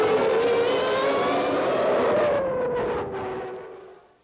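Formula 1 race car engines roar in a loud, sustained high-pitched whine with shifting pitch, holding steady and then gradually fading over a few seconds with no speech.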